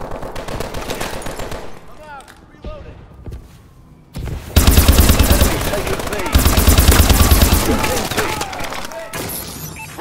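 Rapid automatic gunfire from Call of Duty: Advanced Warfare rattles in dense, loud bursts, with lighter scattered shots early on, a brief lull, and then sustained heavy fire. Voices and game chatter come through in between.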